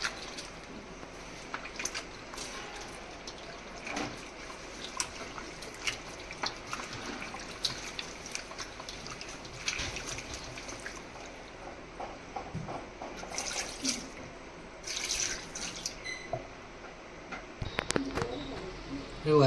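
Raw mutton being rinsed and washed by hand in water in a village kitchen, with close, irregular splashing, squelching and dripping that continues steadily throughout.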